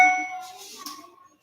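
A phone notification rings out as a single bright chime, starting loud and fading away within about a second.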